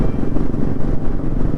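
A Bullet motorcycle engine rumbles steadily on a road ride from Pokhara to Kathmandu, heard close and fairly loud with no voices.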